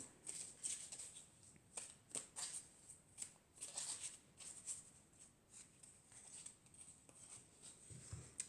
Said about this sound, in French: on va prendre une carte de l'oracle des elfes